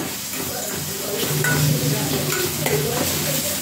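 Shrimp frying in a pan gives a steady sizzling hiss with faint clinks and scraping, close and fairly loud throughout, with no voices over it.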